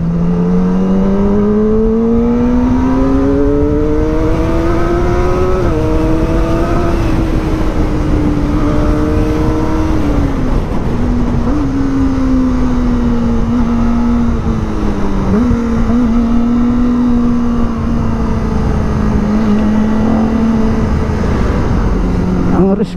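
A Kawasaki ZX-25R motorcycle on a test ride makes a loud, continuous engine drone heard from close by, its pitch climbing and dipping with gear changes and throttle.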